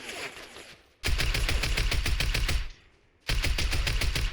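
A rifle fitted with a thermal scope fires in Fortnite, unleashing two long, loud bursts of rapid automatic shots separated by a short lull, each burst a dense, continuous rattle.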